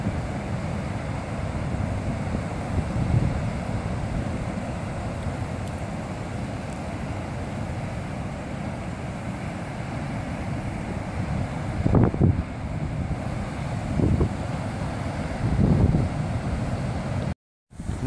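Wind and Tasman Sea surf at a high clifftop lookout above Piha, New Zealand, form a constant rushing wash, with the waves far below, buffeting gusts on the microphone and a brief dropout near the end.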